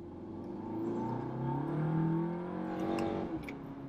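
Tuned 2016 VW Golf R MK7 engine revving up through the rpm range, its tone climbing steadily before a gear shift drops it, heard from inside the car at moderate level.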